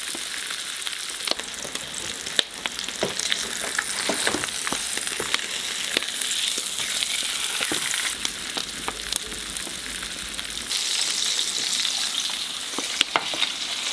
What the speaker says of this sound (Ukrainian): А тепер смажимо свинину на пательні до золотавої бурштинової скринки.